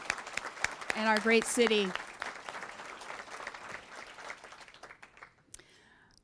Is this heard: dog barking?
no